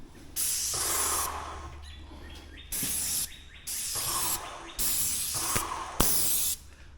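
Magnum X5 airless paint sprayer spraying paint with no compressor running, in five loud bursts of steady hiss of about a second each, separated by short pauses with faint clicks.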